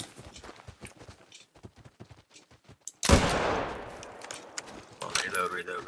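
A single loud rifle shot cracks out partway through a hunting session in theHunter: Call of the Wild, with a long decaying echo rolling off after it. Softer footsteps and rustling come before it, and further noise follows.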